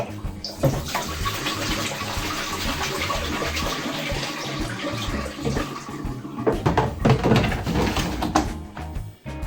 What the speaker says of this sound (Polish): Zaczynamy od wylania wody.